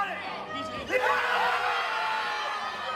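Wedding reception guests erupt in loud cheering, whooping and screaming while watching the Ohio State versus Notre Dame football game. The crowd noise swells sharply partway through and stays high, mixed with shouted voices.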